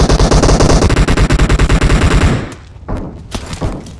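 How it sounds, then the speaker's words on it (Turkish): In PUBG Mobile, an MK rifle fires a loud, rapid automatic burst for about two and a half seconds, followed by a few scattered, more distant shots. "Biri bana sıkıyor da MK ile."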